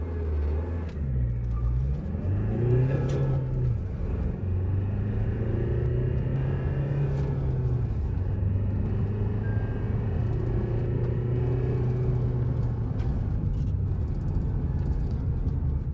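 A Harrier SUV's engine hums and rumbles steadily from inside the cabin in sport drive mode, its pitch rising and shifting as the vehicle accelerates.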